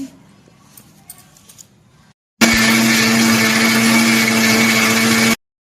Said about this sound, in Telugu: ఇలా కలిపేసుకుని మళ్ళీ మనం మిక్సీ వేసుకుందాము